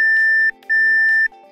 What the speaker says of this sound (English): After 10 minutes, the programmer will beep twice,